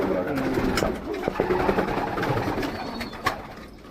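Flight pigeons coo repeatedly inside a crowded loft of about four hundred birds, close and layered, with soft wing rustles and people talking nearby.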